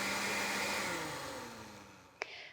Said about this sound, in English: And now we will just blend it up until it has a liquid consistency.